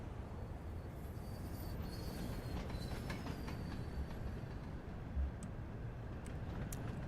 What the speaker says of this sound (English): Do I see a Jubilee pulling freight?